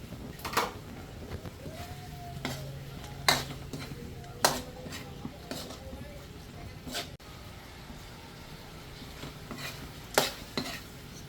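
Pork that was browned earlier goes into boiling misua soup in a pot, followed by sharp clinks and scrapes of a utensil against the pot at irregular intervals over a quiet bubbling background.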